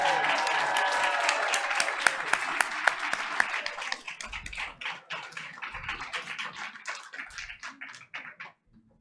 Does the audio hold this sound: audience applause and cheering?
yes